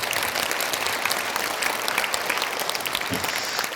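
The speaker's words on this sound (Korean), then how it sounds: "뜨거운 박수로 맞이해 주시기 바랍니다" Audience applause greeting Venerable Mungwang as he takes the stage at an academic conference on Taegongdang Wolju; steady, dense clapping from a crowded hall, continuous for the whole stretch with no voices.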